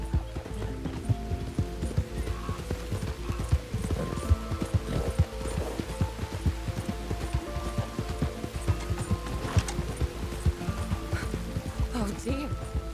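Horse hooves clip-clop in a steady walking rhythm during a ride to Valentine in Red Dead Redemption 2, close and moderately loud, with occasional talk and background music layered over the hoofbeats.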